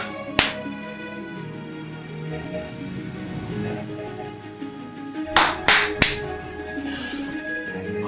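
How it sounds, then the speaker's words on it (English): Hand claps during a live FOMC day-trading stream: one sharp clap near the start, then a quick burst of three loud, close claps a few seconds later over a low, steady background. "I'm sorry I clapped in your guys' ear."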